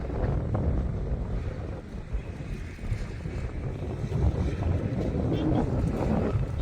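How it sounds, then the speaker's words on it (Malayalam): Strong wind buffets the microphone in a continuous, loud rushing roar with no clear speech, at the Parunthumpara hilltop in Idukki, Kerala. "നല്ല ഉഗ്രം കാറ്റാണ് അടിപൊളി കാറ്റ്"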